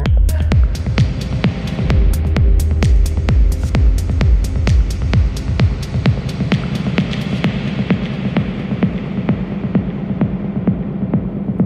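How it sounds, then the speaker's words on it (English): An Elektron Octatrack reverb transition effect: a run of rhythmic pulsing hits smears into a sustained, droning reverb wash that gradually thins and darkens toward the end, with no talking. "The next effect is called reverb transition."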